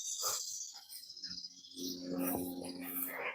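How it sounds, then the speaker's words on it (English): Cicadas buzzing outdoors by an open field of hay bales, a steady high-pitched drone running through the whole moment with faint bird-like chirps mixed in. "Oh, cicadas."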